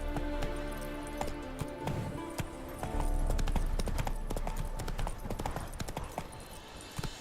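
A horse gallops at a steady clip-clop in The Witcher 3: Wild Hunt, hooves pounding close and loud over a continuous game soundscape with music, with a brief shout near the start.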